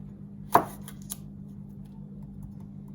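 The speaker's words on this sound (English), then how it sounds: "chop both ends with the knife, and then the skin will peel away really easily" A knife chops down through the end of a garlic clove onto a cutting board, one crisp, close thunk followed by a fainter second tap, otherwise quiet.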